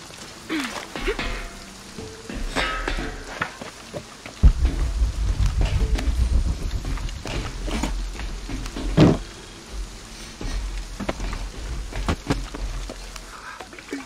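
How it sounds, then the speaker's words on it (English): Rain and rumbling thunder from a storm in the video game Shadow of the Tomb Raider, with a steady patter of rain and heavy low rolls of thunder swelling mid-scene, plus scattered sharper cracks. "This storm is coming in quick."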